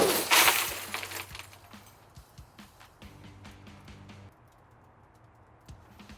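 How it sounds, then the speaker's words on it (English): Tempered glass struck by a 22-ounce hammer bursts loudly at the start, followed by a scatter of sharp tinkling fragments settling over several seconds. "it turned out that it's tempered glass because it just shattered into a million different pieces"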